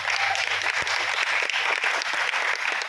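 Audience clapping in a training session meeting hall, a continuous moderately loud spatter of many hands with no voice heard above it.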